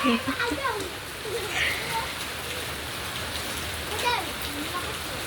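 Rain patters steadily on surfaces outdoors while a young boy plays in the downpour, a constant hiss with brief splashes, as voices speak over it.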